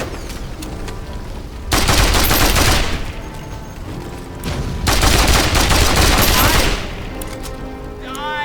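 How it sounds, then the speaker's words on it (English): Mercenaries fire dense volleys of automatic gunfire in the Mercenaries 2 video game, two loud sustained bursts separated by a quieter lull, with voices faintly present in the background. "The mercenaries firing"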